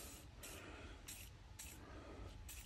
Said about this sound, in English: so a wee bit of WD-40 in here just to keep your maintenance right